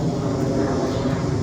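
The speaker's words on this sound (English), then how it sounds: "that's an airplane." An airplane passes overhead as a steady, loud broadband engine roar that holds evenly throughout the short stretch, with no speech over it.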